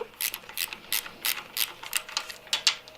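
Rapid ratchet clicking in short bursts as M6 cam cover bolts are undone on a BSA Goldstar 650 motorcycle, crisp and close with brief pauses between runs of clicks.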